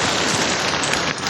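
Heavy morning rain falls in Singapore as a dense, loud, steady hiss of drops on surfaces, close by and continuous, with no voices.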